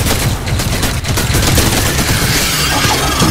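Continuous, loud gunfire from a weak weapon in Crysis 3, a dense rattle of shots filling the whole moment with no break or speech.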